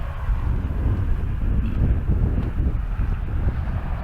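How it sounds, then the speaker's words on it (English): Strong wind buffets the microphone on a roadside along historic Highway 80 east of San Diego, a loud, steady low rumble with gusty swells throughout. "It's a windy day."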